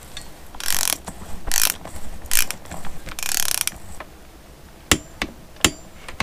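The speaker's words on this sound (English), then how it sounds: "Let's see if we can hold on to the clutch and tighten that nut now." A ratchet tightens the sprocket nut on a Suzuki TS185 motorcycle, with several bursts of rapid clicking close up, followed by a few sharp metallic knocks near the end.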